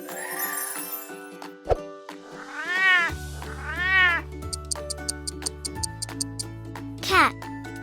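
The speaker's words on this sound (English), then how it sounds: "Cat." A cat meows several times in drawn-out, rising and falling calls, loud and close, over a light tinkling musical backing.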